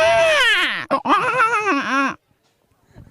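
A man mimics a small child crying in a short, high, wavering wail that breaks off, resumes in a few sobbing bursts, then stops, with a faint sound after. The crying is loud and close, performed as vocal mimicry.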